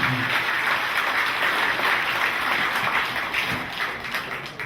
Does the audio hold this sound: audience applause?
yes